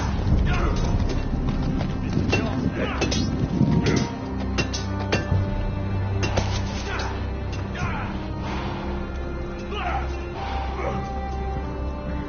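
Horse hooves clip-clop in a steady walking rhythm, mixed with background activity and voices.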